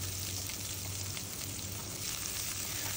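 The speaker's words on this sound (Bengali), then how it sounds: "এখন আমি কড়াইতে দিয়ে দিচ্ছি পেঁয়াজ কুচি।" Chopped onion frying in a wok gives a steady, dense sizzle that stays even and fairly close throughout, with no voices.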